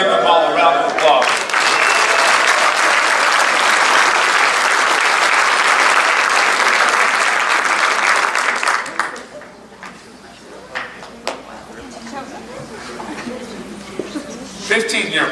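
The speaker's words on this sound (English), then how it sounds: "Let's give them all a round of applause." A crowd at a school faculty awards ceremony applauds loudly and steadily for several seconds, then the clapping stops and scattered noises and faint chuckles follow.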